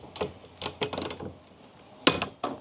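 A bolt on a wiper arm puller is tightened on a Jeep, producing a few quick ratcheting clicks in short bursts, close and fairly quiet with brief pauses between them.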